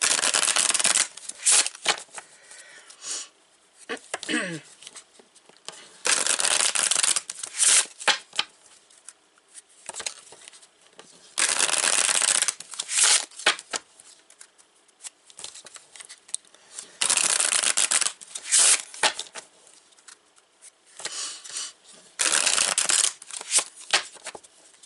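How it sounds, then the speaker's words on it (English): Lenormand cards being shuffled in repeated bursts of crisp riffling and rubbing, each a few seconds long, separated by short quiet pauses, close and fairly loud with no talking. "I want to shuffle"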